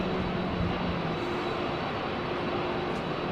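Airplane taking off in Microsoft Flight Simulator, a steady, dense engine roar with a faint droning tone, holding even throughout with no voices.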